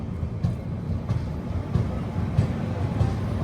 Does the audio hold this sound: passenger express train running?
yes